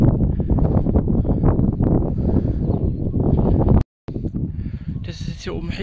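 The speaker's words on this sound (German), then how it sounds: "Das ist jetzt hier oben richtig zugig." Cold night wind at the top of the Schneeberg mountain buffets the microphone in loud, continuous rumbling gusts, broken by a brief dropout before the wind returns.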